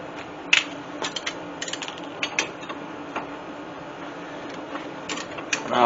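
A wrench ratchets in short bursts of clicks while snugging up the rear shackle bolts on a 1997 Ford Explorer during a lift kit install, close against a steady background hum.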